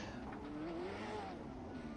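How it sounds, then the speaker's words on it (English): A Lotus 7 race car in iRacing revs hard and spins out, its engine note rising and wavering steadily amid tire noise, moderately loud and continuous for a brief moment. "it sounds like he was on the revs, then found a gear, and then just spun round again"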